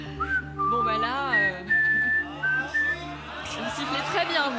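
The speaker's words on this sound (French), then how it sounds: "vous sifflez très bien" Someone whistles a wandering melody with sliding pitches on a TV game show, close and clear, alongside bits of talk and a low steady hum.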